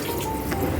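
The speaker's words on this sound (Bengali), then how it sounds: "জল দিয়ে দিচ্ছি।" Water is poured into a pot of mung dal with fried katla fish heads and cumin powder, a steady soft liquid wash with faint dripping, close and continuous for under a second.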